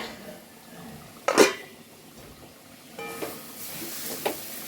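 A lid lifts off a cooking pot in a home kitchen, giving a sharp metallic clank followed by a few lighter clinks of metal, faint and close with no talking.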